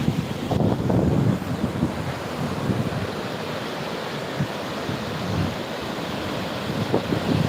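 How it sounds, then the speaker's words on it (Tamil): Continuous rushing water flowing into the sea with a constant roar, buffeted by wind noise against the microphone, steady throughout with no voices. "எவ்வளோ தண்ணி போய் கடலில் தருது"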